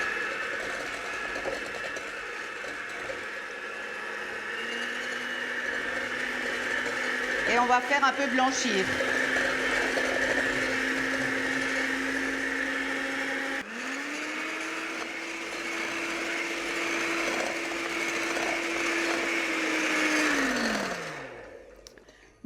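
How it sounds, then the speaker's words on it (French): An electric hand mixer beats sugar and vanilla sugar for an apple cake, its steady motor whine running continuously, briefly stopping midway then restarting and winding down at the end, with someone speaking over it. "Et on va commencer à battre tout ça. Donc je prends mon mixeur."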